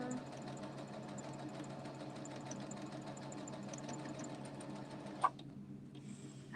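A sewing machine runs a simple straight stitch in two lines across fabric in a library makerspace, whirring steadily and close for about five seconds before stopping with a sharp click, leaving faint background hum.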